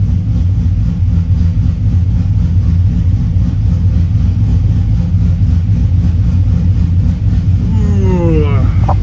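A heavy truck engine idles with a loud, steady, low rumble close by and no change in pace, and a brief rising tone sounds near the end.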